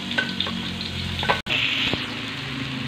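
Ground spice paste for eggplant balado with tuna fries in a pan, giving a steady close sizzle with scraping stir sounds and one brief dropout midway.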